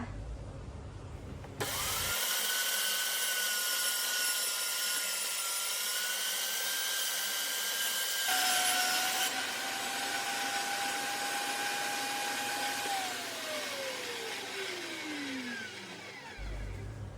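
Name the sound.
electric grinder blending chili and garlic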